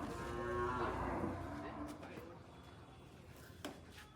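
A cow in a herd of rescued cattle gives a long, low moo nearby, followed by quieter farmyard noise and faint voices.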